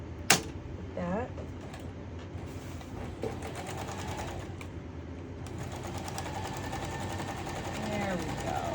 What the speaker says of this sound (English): let me just do a little more sewing here with that.